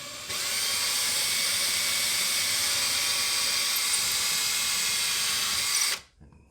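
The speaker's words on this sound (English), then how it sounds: "and then drill the hole up here." A power drill whines at a constant high pitch for several seconds, close and loud, while drilling a hole to install a curtain rod, then spins down and stops.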